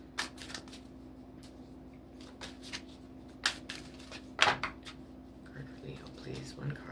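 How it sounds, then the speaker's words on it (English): Soft, brisk shuffling of tarot cards, a few quick riffles and taps close by over a quiet room hum, with faint murmuring now and then. "I'm not shuffling very good today."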